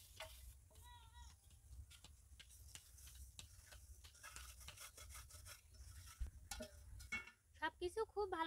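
Semolina, grated coconut, flour and sugar are stirred and rubbed together by hand for fried naru, giving a steady dry scraping and rustling with irregular soft ticks and a few faint background tones.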